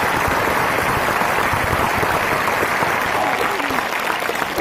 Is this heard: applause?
yes